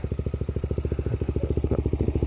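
A Daelim VJF250 motorcycle engine runs with a fast, steady, pulsing thrum, close and even throughout, as the Korean-made bike is ridden.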